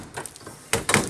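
Entry door of a 2022 Rockwood High Wall 277HW travel trailer being opened, giving two close, sharp clunks in quick succession after a few softer rattles.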